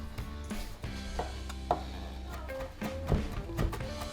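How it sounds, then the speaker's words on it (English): Knife chopping a sprig of rosemary on a cutting board in a home kitchen, a series of light, irregular taps close by with a low background hum, no talking. "Give this a light chop."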